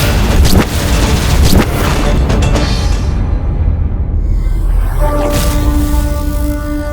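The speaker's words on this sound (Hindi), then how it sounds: "अब किसी से प्रभावित हुए बिना अपना विस्फोट करूंगी मैं" A loud, sustained rumbling magical blast in a Hindu mythological drama, with booming low-end and crackling bursts, fading into a ringing, tonal hum.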